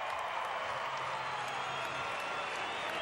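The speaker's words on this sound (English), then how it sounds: "Crowd very appreciative of her efforts." A crowd at a college women's gymnastics meet, UCLA at Utah, applauding a routine with steady, even clapping and cheering that fills the arena at a moderate distance.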